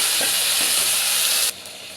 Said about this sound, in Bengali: জিরা আর মশলাটা ভাজা হয়েছে আমি দিয়ে দেবো পেঁয়াজ